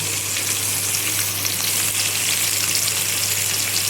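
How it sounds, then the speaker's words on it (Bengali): Katla fish frying in a pan of oil, a dense, even, loud sizzle with no breaks, heard close up over a low steady hum. "মাছটা ভাজাবো, তোমাদেরকে দেখাচ্ছি কেমন হচ্ছে"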